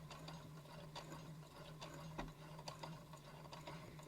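A sewing machine making a slow lock stitch on a festive drawstring bag, faint and mechanical, with quiet repeated ratchet-like clicks and gear whirring at an uneven pace.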